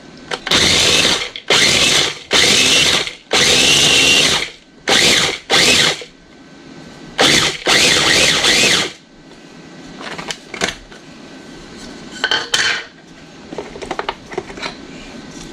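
Halved pecans being chopped, heard as loud, close, repeated mechanical grinding bursts of about a second each, followed by quieter scattered clicks and rattles.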